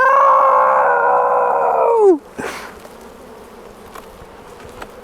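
Wild caught bees give a loud, close, steady buzzing drone that holds for about two seconds, then drops away sharply into quiet background with faint clicks.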